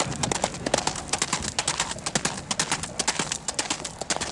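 Horse hooves clip-clopping as riders set off, a steady, fast, close rhythm of bright hoof strikes that continues without a break.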